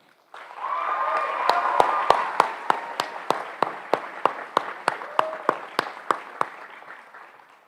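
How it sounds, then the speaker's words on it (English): At a high school senior awards night, an audience gives a round of applause as a speaker returns to the stage, steady clapping with voices and a whoop at first, then thinning to one person's sharp, evenly spaced claps before it fades. "Let's give a big round of applause to Elisa Quintero Cantu"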